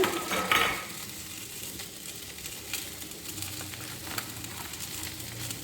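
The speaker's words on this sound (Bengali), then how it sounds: "আমি নুন হলুদ দিয়ে বেগুনটাকে ভেজে নিলাম, আর জিরে তেজপাতা ফোড়ন দিয়েছি" Brinjal fried with salt and turmeric sizzles in hot oil tempered with cumin and bay leaf. A brief clatter opens, then a soft, steady frying hiss continues alone with occasional stirring.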